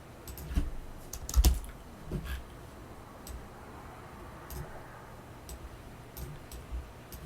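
Keystrokes on a computer keyboard while commands for a robot modeling setup are entered, a few quick clustered taps followed by sparse single clicks, close and fairly quiet with no talking.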